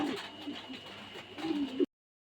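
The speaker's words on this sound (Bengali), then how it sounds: "অনেক সুন্দর এক জোড়া রেসার কবুতর" A pair of racer pigeons cooing close by, a few soft low throaty coos over a steady background hum, ending abruptly.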